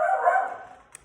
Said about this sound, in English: Oh, the dog won't stop barking, will he?